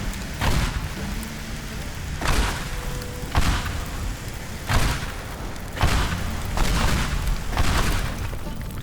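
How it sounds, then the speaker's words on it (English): Dynamite blasts demolish a house in the video game Teardown: a run of heavy, booming explosions about a second apart, each trailing into crackling, rain-like debris and rumble. "Anywhere that doesn't seem to be on fire can have a bit of dynamite"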